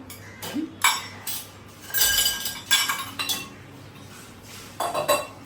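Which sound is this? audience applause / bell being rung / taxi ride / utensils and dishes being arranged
utensils and dishes being arranged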